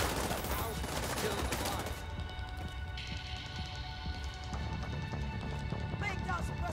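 Sustained assault rifle suppressive fire in The Division 2, dense rapid gunfire bursts with loud continuous crackle, mixed with game effects and shouted voices in the background.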